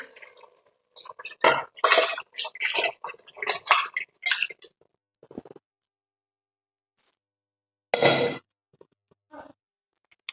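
Mutton curry stirred in a metal pot with a spoon, clanking and scraping in bursts separated by quiet pauses, then one final scrape.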